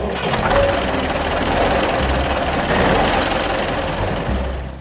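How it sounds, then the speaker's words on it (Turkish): A tractor engine chugging steadily and loudly with a rapid rattling rhythm, continuous and close, no voices. "Traktörlerin sesi böyle çıkar."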